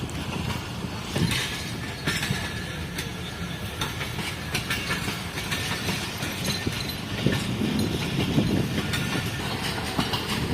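The Shah Latif Express departs from Dabheji for Mirpur Khas, a steady rumble with rhythmic wheel clatter and occasional squeals and hiss, sustained and fairly loud throughout.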